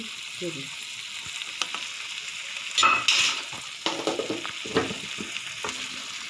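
Brain masala being stirred in a frying pan after garam masala is added, with a soft steady sizzle broken by a few louder scraping stirs near the middle and toward the end.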